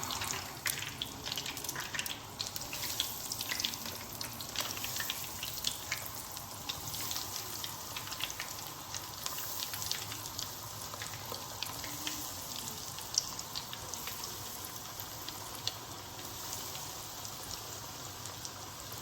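Homemade crispy chicken vegetable nuggets frying in hot oil give off a steady, dense sizzling hiss that runs unbroken and close throughout, with no talking.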